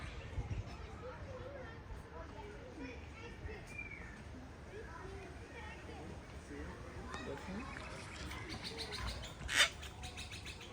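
A gang-gang cockatoo at Lone Pine Koala Sanctuary in Brisbane gives soft, scattered calls and chirps over outdoor crowd murmur and voices, with a sharper burst near the end.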